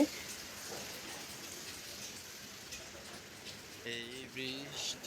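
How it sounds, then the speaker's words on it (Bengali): Heavy rain pours down in a steady, dense hiss that stays fairly faint and continuous, with a brief murmur of voices near the end. "খুব জোরে বৃষ্টি হচ্ছে"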